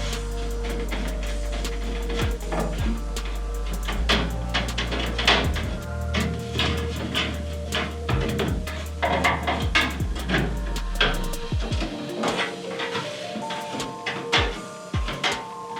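Screws are driven to fasten a motherboard into a PC case during a gaming PC build, producing a close run of small metallic clicks, taps and scraping rattles at an uneven pace with short pauses.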